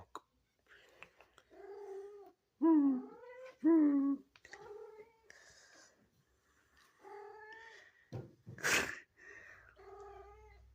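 A cat meows repeatedly up close, giving drawn-out, wavering, moaning yowls in irregular bursts, with short pauses and a brief rustling noise near the end.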